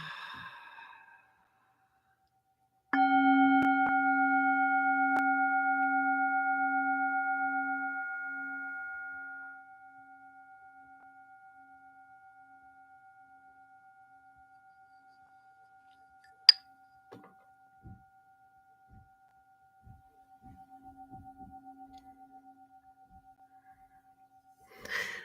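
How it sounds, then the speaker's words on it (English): A singing bowl is struck and rings with a clear sustained tone that slowly decays over several seconds, followed by near silence, a few soft taps and another faint ringing note near the end. "I do recognize that singing bowls are not for everyone, and different tones impact and affect people different ways."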